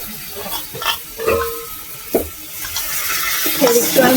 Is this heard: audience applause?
no